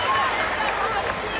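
A home crowd roars steadily at a 1991 basketball grand final between the Hobart Islanders and Melbourne East Spectres, a dense, continuous wash of noise beneath a commentator's voice.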